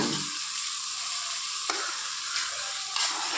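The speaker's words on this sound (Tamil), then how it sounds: "வெங்காயம் பச்சை மிளகா கருவேப்பில் போட்டுக்கலாம் நல்லா வெந்துருச்சுங்க" Steady oily sizzle of onions and green chillies frying in a pan, with a couple of soft clinks of a utensil; no voices.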